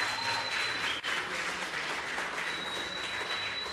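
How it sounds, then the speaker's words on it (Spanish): Audience at a live comedy show applauding steadily, a dense wash of clapping that holds at a constant level with a brief dip near the one-second mark. "vamos a brindarle un fuerte aplauso a Papá Dios"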